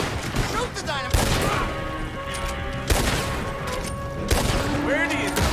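Rapid bursts of gunfire aimed at dynamite in the Western action game Red Dead Redemption 2, loud sharp shots at about 1, 3 and 4.3 seconds over a dense bed of sustained shooting and ringing tones.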